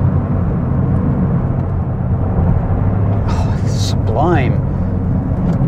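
A 2023 Toyota GR Corolla Morizo engine is driven flat out, a loud, steady, droning roar that carries throughout while someone talks over it.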